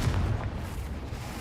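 Confringo blasting-spell explosion, a dense, loud low-end boom that fills the short moment with sustained rumbling roar, close and alone without any voices.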